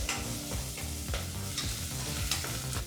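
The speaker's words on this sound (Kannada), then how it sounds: "ಈ ಎಲ್ಲ ಪದಾರ್ಥನೂ ಒಂದು ಮೂವತ್ತು ಸೆಕೆಂಡ್ಗಳ ಕಾಲ ಫ್ರೈ ಮಾಡ್ಕೋಬೇಕಾಗತ್ತೆ" Chillies and spices frying in hot oil for rasam, a dense crackling sizzle with quick stirring scrapes throughout, close and steady.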